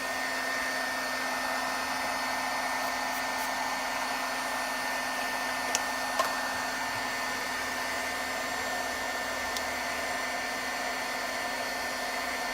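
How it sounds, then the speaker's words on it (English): A heat gun runs steadily as it warms a freshly cleaned rubber stamp for making Christmas cards, giving a continuous, even rushing roar of hot air that stays at one level throughout without pause. "I'm gonna turn my heat gun on while I clean off this stamp"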